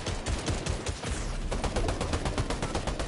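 Rapid automatic gunfire in the video game Fortnite during a squad fight, dense bursts of shots rattling continuously and loudly through the whole moment with no talk over them.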